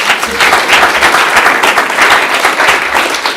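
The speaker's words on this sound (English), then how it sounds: "Give them a round of applause." Audience applause fills a school board of education meeting, a sustained wash of many hands clapping at steady loudness for the whole stretch, with no speech over it.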